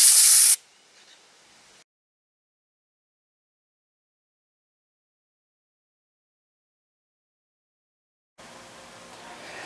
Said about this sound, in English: So I'm going to try and blow it out with the compressor and see if I can get all that stuff out.